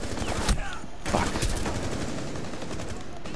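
Gunfire in the Rainbow Six Siege video game, a few sharp bursts and cracks in quick succession over the first second and a half, followed by a dense rumbling background of more distant shooting.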